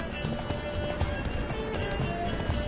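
A horse gallops in The Witcher video game, a steady rhythmic clip-clop of hooves under a busy, noisy game mix of music and effects, with no talk.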